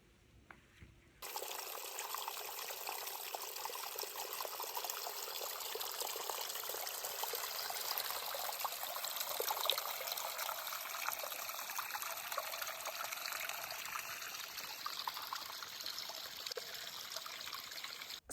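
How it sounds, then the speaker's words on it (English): Water trickles steadily beneath thin ice on a hill path in the Scottish Highlands, a constant close, quiet running flow that starts abruptly after a brief silence and continues alone. "it's got water sort of trickling underneath it"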